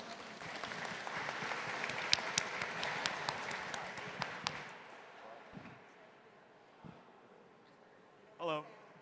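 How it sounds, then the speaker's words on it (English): A round of applause for a presenter at a closing event, quiet and sparse with scattered sharp claps that fade out after about four seconds, followed by near silence and a brief voice. "Everybody give a round of applause to Alex Wong."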